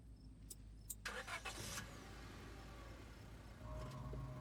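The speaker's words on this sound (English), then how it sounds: "the car cuts along the darkened road" A car in the horror game Scarlet Hollow drives along a darkened road, a door clunk and engine turning over leading into a steady low motor rumble that continues evenly.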